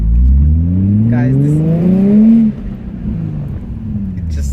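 A Nissan 350Z engine on the move, loud and close, its revs climbing steadily in a rising drone before easing back to a lower, steady rumble.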